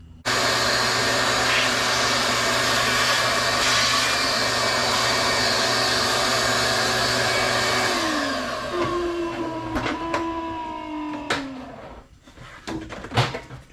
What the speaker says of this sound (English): Guess the vacuum's dying.